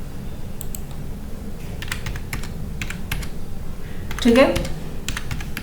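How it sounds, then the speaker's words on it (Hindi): Close, quick clicks of typing on a computer keyboard come in irregular bursts during Excel data entry, while someone briefly speaks over the steady keystrokes. "रेट ऑफ इंटरेस्ट यहाँ पे मैं मैनुअली टाइप कर लेता हूँ"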